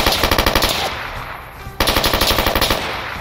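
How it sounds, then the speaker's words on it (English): Modded gunfire from Fallout New Vegas: rapid automatic bursts of loud, close machine-gun shots in a steady rhythm, breaking off briefly midway before another burst resumes. "with 3D audio, you can identify from which direction you hear that gunfire"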